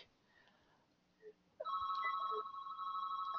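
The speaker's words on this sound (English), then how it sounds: "Sorry about that ringing." A telephone starts ringing in a quiet room, its steady electronic trill cutting in abruptly and continuing loud and unbroken.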